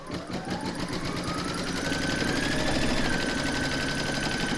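An embroidery machine stitches a placement outline for a large pig appliqué in the hoop, a steady, loud, rapid needle rattle running continuously with a rising whine, no voices.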